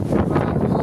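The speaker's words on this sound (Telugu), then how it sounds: "గాలి చూడండి ఎలా వస్తుందో ఈరోజు." Strong wind gusting outdoors ahead of rain, raising dust, buffeting the microphone as a loud, steady low roar throughout with no voices.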